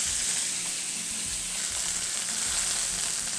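Rosemary chicken sears untouched in a hot pan for pan-roasting, producing a steady, even close-up sizzle with no other sounds.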